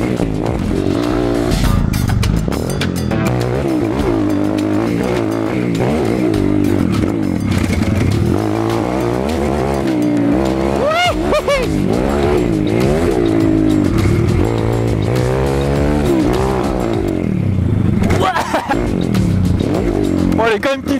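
A motorcycle engine rises and falls in pitch as the rider accelerates and shifts gears, with steady wind rush throughout.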